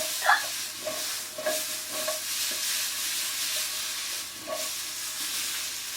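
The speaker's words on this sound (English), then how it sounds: "once you've sautéed your mushrooms and they're this lovely golden brown colour" Mushrooms sautéing in a pan for a turkey and ham pie, a steady soft sizzle with occasional stirring scrapes and clicks, moderately close and fairly quiet, with no voices.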